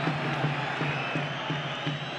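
A football stadium crowd at a Real Zaragoza versus Deportivo de la Coruña match gives a broad, distant murmur of cheering and whoops, with a voice talking over it.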